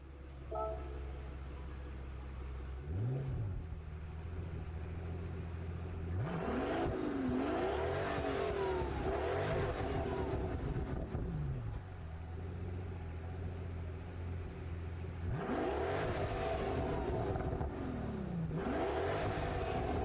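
A Pagani Huayra engine swapped into a car in Gran Turismo 7 revs hard in two long bursts, pitch sweeping up and down through repeated throttle blips over a steady idle drone, loud and close with no talking.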